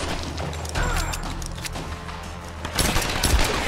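Burst of gunfire in a Tomb Raider action game, loud rapid shots with a heavier boom near the end, no talking over it.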